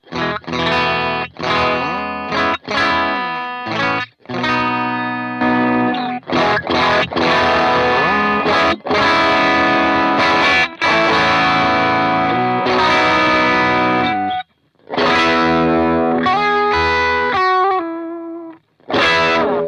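Electric guitar through the overdrive side of a BLAMMO TNYDUMBLE Dumble-style pedal, medium-gain blues and rhythm playing with chords and single-note runs, clear and close, with short pauses between phrases.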